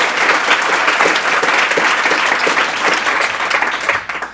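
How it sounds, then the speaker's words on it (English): Audience applause at the PRACTICE 2016 conference for speaker Ken Perlin: dense, steady clapping from a large crowd that holds for several seconds, then thins and fades near the end. "Please give a round of applause to Ken Perlin."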